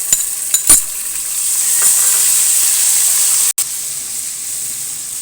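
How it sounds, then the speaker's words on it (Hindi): Onions turning golden brown, frying with ginger garlic paste in a pan: a steady hiss and sizzle with a couple of sharp utensil clinks early on and a brief cut partway, no voices. "अब ये हमारी प्याज जो है गोल्डन ब्राउन की तरफ आ रही है"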